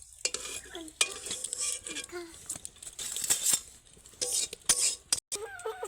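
Spiced eggplant slices go into a dry wok with no oil, heard as clinks and scraping with a light sizzle and a voice talking at times.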